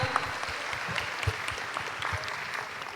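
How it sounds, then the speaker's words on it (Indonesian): Audience applause for a speaker at an event, a steady close clapping that carries through the whole stretch without voices over it. "Boleh berikan aplaus sekali lagi untuk Kak Linda Anggrea."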